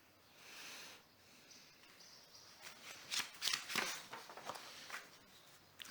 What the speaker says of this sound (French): J'arrange les papiers.